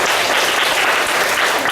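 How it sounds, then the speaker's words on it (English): A club meeting audience breaks into brief, dense clapping for its officers, loud and close, sustained for under two seconds. "so give them a big applause"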